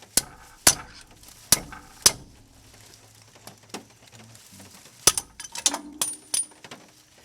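Several sharp metallic hammer blows on a tool, spaced irregularly, followed by a quicker cluster of clanks and rattling, with quiet mechanical ticking between strikes.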